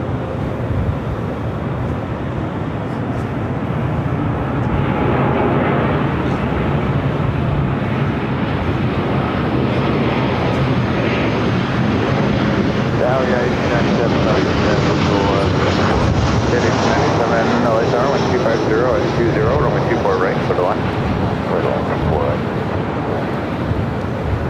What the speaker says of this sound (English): Frontier flight 3156 on Del Rey, runway 24 left up for takeoff